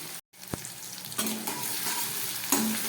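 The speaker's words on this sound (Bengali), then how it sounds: "খুব ভালো করে পেঁয়াজটা টমেটোটাকে আমি ভেজে নিচ্ছি।" Chopped onion and tomato fry in a pan while making a jackfruit kofta gravy, giving a steady close sizzle with scraping stirs and brief clatters; the sound drops out for a moment near the start.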